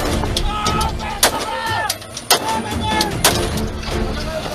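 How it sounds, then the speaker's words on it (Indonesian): Warning shots fired into the air ring out as several sharp, loud bangs at irregular intervals over a steady ship engine rumble, with faint voices in the background. "Berikan tembakan peringatan ke udara."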